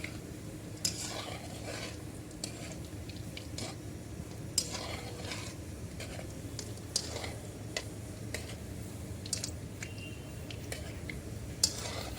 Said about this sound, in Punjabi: ਤੁਸੀਂ ਚਮਚ ਦੀ ਮਦਦ ਨਾਲ ਹਿਲਾਓ ਇਸ ਤਰ੍ਹਾਂ